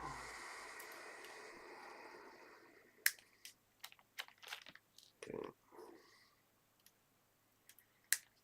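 Thin plastic parts of a 1/35 scale model kit snipped from the sprue at a hobby bench: a scattered series of small, sharp clicks and snaps, fairly close and quiet, following a soft hiss at the start.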